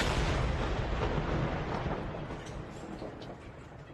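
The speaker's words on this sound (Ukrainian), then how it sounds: "Спочатку чутно звук дрона, а за лічені секунди потужний вибух" A powerful explosion from a drone strike, a deep, rumbling blast that rolls out loud from the start and slowly fades over several seconds, with no voices.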